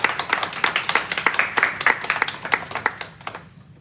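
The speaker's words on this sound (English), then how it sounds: "Give a round of applause." Audience applause at a town hall meeting in Gibsonville, many hands clapping in a brisk, distinct rhythm, fairly close and loud, then tapering off quickly at the end.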